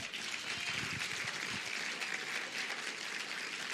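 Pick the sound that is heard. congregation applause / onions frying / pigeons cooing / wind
congregation applause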